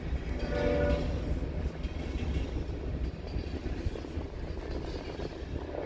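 A manifest freight train rolls at the Transcon diamond, a low rumbling drone of wagons under a sustained horn blast near the start, heard from moderate distance with no talking.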